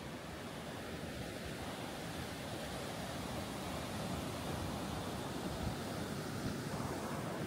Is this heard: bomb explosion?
no